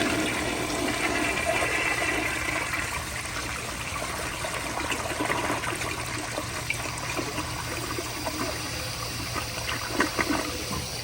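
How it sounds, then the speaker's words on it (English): A 1980s American Standard Afwall toilet flushes with a loud, continuous rush of water that holds steady for about eleven seconds, then eases into trickling and refilling, with no voices. "I'm just gonna flush it and see what happens."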